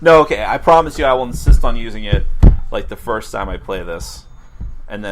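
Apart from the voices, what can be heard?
No everyday noises stand out.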